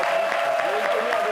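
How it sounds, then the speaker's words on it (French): A studio audience on a French-language television show claps as a guest arrives, a brief patter of applause with a voice speaking over it. "Mimi TikTok qui arrive applaudi par le public."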